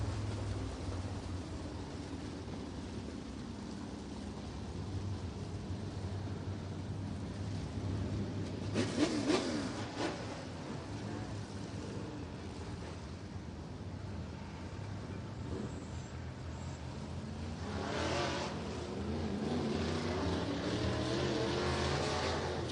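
IMCA Northern SportMod race car engine refiring at a dirt oval in Nipomo, California, a rising engine roar over steady wind and crowd noise, surging near the middle and again toward the end.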